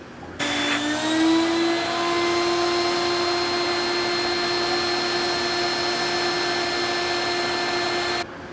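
A dust collection system pulls air through a hose with a loud, steady whooshing roar and a high whine that starts abruptly, holds unchanged for several seconds, then cuts off.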